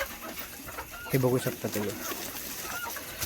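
Pure desi village chickens kept as a sideline on a sugarcane farm give a short burst of clucking in the middle, over steady yard noise, while someone talks.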